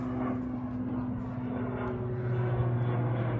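Fixed-wing airplane flying overhead, a faint, steady, distant engine drone that continues throughout without any other distinct sounds.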